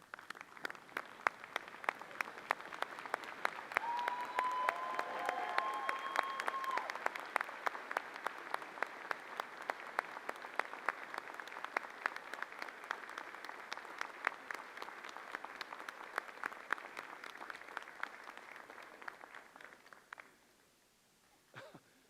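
A convocation audience gives a sustained standing ovation, dense steady clapping that carries on for about twenty seconds before tapering off, with a few scattered coughs and a brief whistle-like tone early on.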